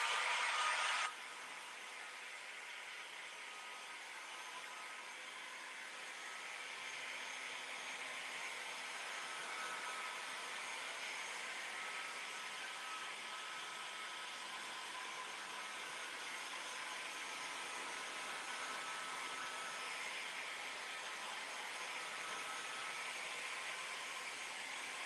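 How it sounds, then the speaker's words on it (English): A heat gun drying colorwashed paint on a doll's top runs as a steady, fairly quiet airy whoosh with a constant broadband hiss, unbroken for the whole stretch and with no talk over it. "I'm just going to dry that quickly with the heat gun."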